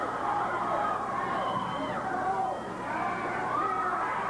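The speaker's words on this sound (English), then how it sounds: "Many in the crowd are yelling there was no tag." Crowd at a tag-team pro wrestling match yelling and shouting in a dense, reverberant roar, with voices rising and falling in the babble.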